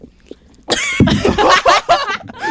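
A person coughs in a rough, repeated fit after choking on saliva, up close, several harsh bursts tumbling one after another with strained breaths between.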